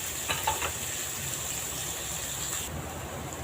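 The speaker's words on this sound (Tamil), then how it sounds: "பாருங்க, வெங்காயம் நல்லா வதங்கிடுச்சு." Finely chopped onions sauté in a pan, a soft continuous sizzle with a few brief stirring scrapes early on, quiet and close.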